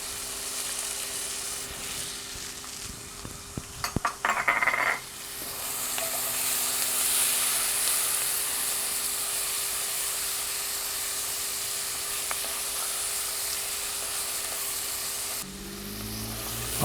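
Garlic hits a hot pan for green bean stew, a few stirring clunks, then a steady, close sizzle and hiss of frying that runs on.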